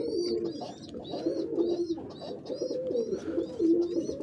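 Pigeons coo in soft, repeated low throaty phrases, close by, with faint higher chirps from other birds in the background.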